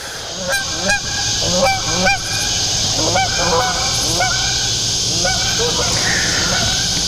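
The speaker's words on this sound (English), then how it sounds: "Here come the geese." Repeated loud honking from several geese, calls overlapping in irregular bursts over steady outdoor background noise while fishing.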